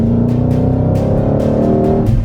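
A 2020 Ford Mustang Shelby GT500 at full throttle on a race track, its engine roaring loud and steady through a long turn with a harmonic drone and faint tire squeal.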